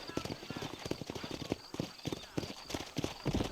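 Horse hooves clip-clop at a steady trotting pace in the Red Dead Redemption video game, rhythmic and close, with a neigh and game dialogue voices mixed over the hoofbeats.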